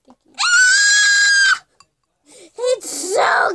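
A young girl lets out a long, loud, high-pitched scream lasting about a second while making slime, then gives shorter shrieks and squeals close to the microphone.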